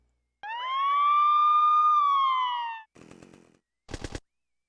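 In the video game Bad Day L.A., a human voice imitates a police siren, one long rising and wavering wail, followed by two short noisy bursts.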